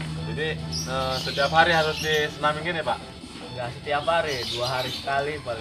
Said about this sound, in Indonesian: Ini burung apa ini, Pak? Burung lakbat.